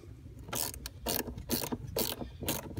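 A socket wrench on a Porsche Panamera battery's negative terminal ratchets in several quick bursts of sharp clicking, close and crisp, with brief pauses between the strokes.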